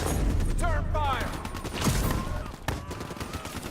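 Bursts of gunfire on a World War II battlefield in Call of Duty Black Ops 3, rattling under voices and a whining effect, with a sharp shot near the end.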